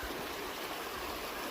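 Lake Creek runs cold beneath a footbridge on a loop near the Upper Metolius River, giving a soft, steady babble of flowing water at low level, continuous and without voices.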